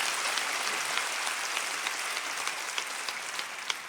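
Church congregation clapping after a membership vow in a Korean Presbyterian Sunday service, a dense, steady patter of many hands filling a large room for several seconds, with no voices over it.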